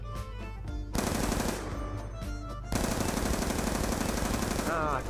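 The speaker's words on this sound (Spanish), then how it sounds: "creo que todo este tiempo estuve disparando mal con la M-TAR" Sustained automatic fire from an M-TAR rifle in a shooter video game, loud continuous bursts with barely a pause, dense and close throughout.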